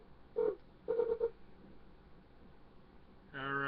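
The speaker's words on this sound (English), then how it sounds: "All right. It's ringing." Telephone ringing on an outgoing call during a radio talk show, two short electronic ring bursts about half a second apart, faint and somewhat distant, followed by a brief louder tone at the end.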